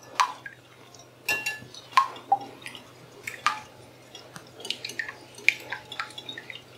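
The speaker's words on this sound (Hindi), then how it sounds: "अच्छे से हम पहले फेंट लेंगे अंडे को" Two eggs beaten by hand in a bowl for a breakfast batter, heard as light, irregular wet clicks and taps against the bowl, fairly close and soft, with a steady low hum underneath.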